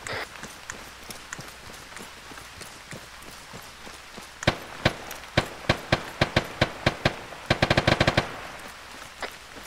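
Gunfire in the Arma game on Altis: a rapid series of sharp shots, sparse at first then a quick burst of several close together, loud and near over a steady background hiss, with no talk.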